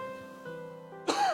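A man who is slightly ill clears his throat once, a short rough burst near the end that follows a steady, faint tonal hum.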